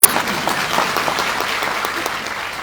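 Audience applause at a Modicare network marketing event in Varanasi: a burst of hand clapping from a crowd that starts abruptly and continues steadily, fairly close, with no talking over it.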